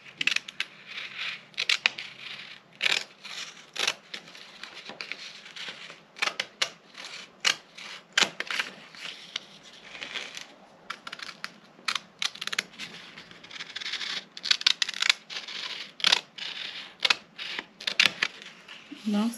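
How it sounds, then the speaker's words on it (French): Scissors cutting a paper sewing pattern for a bustier, dense rapid crisp snips and rustles in quick irregular bursts, close and fairly loud, with someone talking softly at times. "Donc, nous venons couper ici, sur l'autre pied de pince,"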